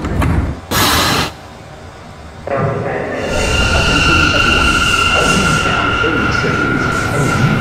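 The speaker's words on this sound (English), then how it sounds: "Stand clear of the closing doors," Inside a subway car: a brief hiss and thump from the doors early on, then the train starts moving with a rising hum and steady rumble.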